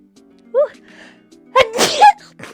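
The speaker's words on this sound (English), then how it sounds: "I'm gonna sneeze." A loud, close sneeze, with a brief inhaled buildup and a sharp burst, over a quiet low hum.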